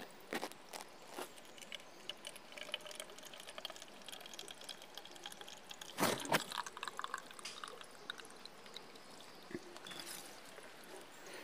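Cold mountain spring water runs into a bottle beside an adobe stone structure with a timber top, a faint, steady trickle broken by a few brief splashes and knocks, with no talking.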